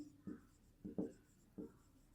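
Pen strokes on paper while solving a triangle area problem, four short faint scratchy bursts spaced unevenly, with no talk over them.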